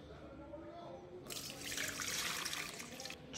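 Water pours into a sourdough cinnamon raisin bagel dough mixture, a soft splashing stream that starts partway through after a quiet moment and runs steadily to the end.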